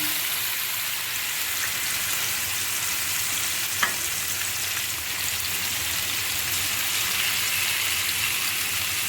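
Fish pieces fry in hot oil for a fish curry, a dense continuous crackling sizzle with scattered spits and pops, one sharp splatter standing out midway, close and fairly loud with no talk.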